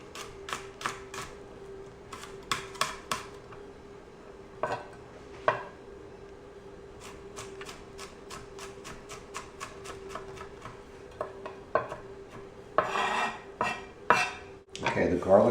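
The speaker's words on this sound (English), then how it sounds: "Okay, the garlic's all cut up." A knife minces peeled garlic on a cutting board for linguine with mussels, giving sharp, close wooden taps in quick bursts with short pauses, then a denser, faster flurry of chopping near the end.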